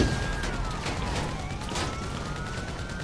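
Police car sirens wail with rising and falling tones through a busy GTA V Online street scene, loud and continuous over engine and traffic noise, with a sharp burst early on.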